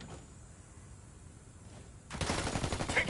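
Heavy video-game gunfire bursts in suddenly after two seconds of near quiet, a loud rattling fusillade that continues to the end.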